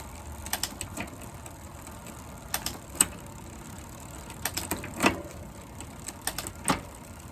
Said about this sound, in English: the first thing you want to do is run it through the gears